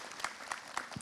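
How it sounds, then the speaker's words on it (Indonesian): A studio audience at an Islamic talk show applauds in a short burst, a soft, steady patter of many hands heard at moderate distance. "Tepuk tangannya Bu."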